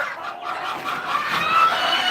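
Laying hens kept for eggs on a farm cluck in a close, continuous chorus of overlapping calls, with no voices over them.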